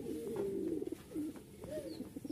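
Rajshahi Giribaz pigeons, a pair, cooing up close in soft, rolling repeated phrases with brief breaks between, alone and without talk.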